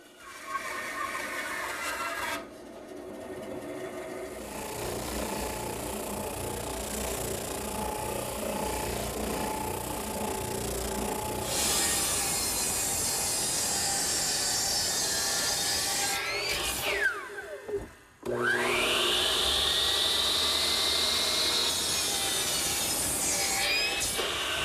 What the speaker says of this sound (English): we'll start by cutting that on the bandsaw